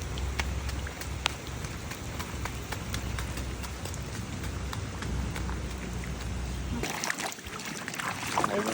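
Steady rain patters on a surface during a rainy outdoor outing, a dense continuous hiss with scattered sharper drop hits, easing off briefly near the end.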